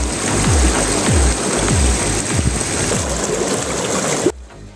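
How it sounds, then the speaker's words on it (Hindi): A mountain waterfall roars with a constant, loud rush of falling water, with a few low thuds underneath, before the sound cuts off abruptly near the end. "जब आप इन आबशारों की तरफ देखते हैं तो आपको पानी के लहरों का जादू महसूस होता है।"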